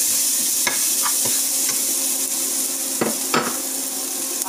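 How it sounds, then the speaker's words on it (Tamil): Garlic and onions sizzle in hot oil with mustard seeds for a Tamil beetroot kuttu, a steady broadband fry under periodic spoon scrapes and stirring clicks, close and fairly loud with no voices. "பூண்டை போட்டுக்கிட்டு நல்லா கொஞ்சம் வதக்கிக்கோங்க."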